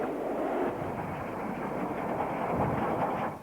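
British steam locomotive train rolling past at Stafford in the 1950s or 1960s, a dense, steady rumble and rush of wheels and carriages that fades slightly at the end.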